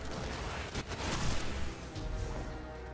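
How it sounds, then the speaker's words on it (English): Heavy blasts from a fusion cannon weapon in the Destiny 2 Forsaken shooter game, a dense rumbling barrage with sharp booming bursts around the middle, loud and crowded with no talk over it. "finish him off with the fusion cannon!"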